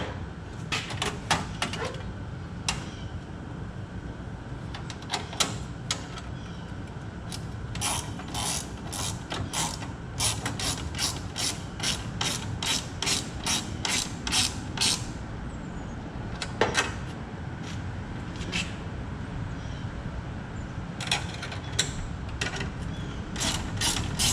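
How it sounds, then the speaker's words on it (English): A wrench ratchets while working on a 1971 Chevy Camaro, producing repeated bursts of quick, close clicking strokes separated by short pauses, with no talking. "Here I got a wrench."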